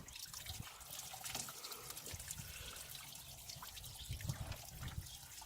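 Coolant drains from a Mercedes Sprinter van into a bowl, trickling and dribbling steadily, a continuous close splashing stream with no talking.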